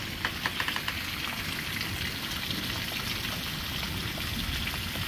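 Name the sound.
heavy rain during a severe thunderstorm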